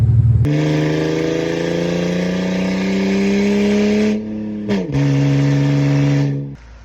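A car engine runs steadily at a fairly constant pitch, loud and close, with a brief dip and stutter near the end before it cuts off; nobody speaks.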